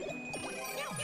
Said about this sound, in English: grab the Super Bell, and turn into Cat Mario.